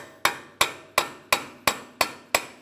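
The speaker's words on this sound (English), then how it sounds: "We'll use a hammer and punch right in the center of the axle to break this free." A hammer drives a punch into the center of a seized axle on a 2003-2007 Honda Accord during upper ball joint replacement, seven sharp metallic strikes at an even, steady rhythm, loud and close with no talk.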